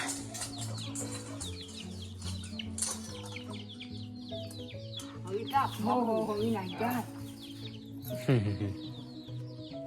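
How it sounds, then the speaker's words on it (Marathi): Hens cluck and a rooster calls amid a busy farmyard, with steady background hum and some nearby talking. "कोंबड्या"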